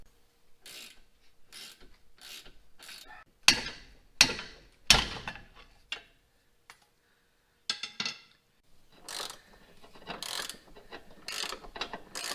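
Ratchet wrench working on the rear shock bolts of a lifted Jeep, a run of quick clicking ratchet strokes in short bursts with pauses, close and clear, followed by rubbing and scraping of metal parts.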